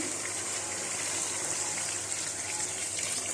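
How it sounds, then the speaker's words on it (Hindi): Boiled mutton stock (yakhni) is poured into a pot of pulao in a steady, continuous gush of liquid, fairly soft and close, without a break. "अब हम इसके अंदर जो पानी है और यखनी का पानी जो है ना वो हम शामिल कर देते हैं"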